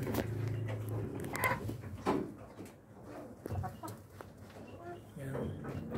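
Rhode Island Red hens in a breeder cage give a steady run of low, throaty clucks and short calls close by, with people talking over them throughout.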